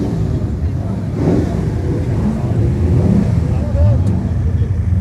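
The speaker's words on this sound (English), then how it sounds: "all the drift cars are just coming back in from their runs out" Drift cars roll back in from their runs at a Japanese car show, a low rumbling engine drone with a rev or two in the distance, mostly under a person talking close by.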